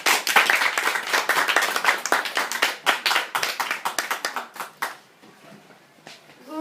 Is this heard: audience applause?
yes